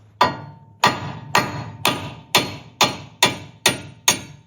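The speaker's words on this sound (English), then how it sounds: "the next step is just to hammer the stud out" Eight sharp metallic cross peen hammer strikes knocking out a car wheel stud, at a steady, even pace, each ringing briefly before the next blow, close and loud with no talking.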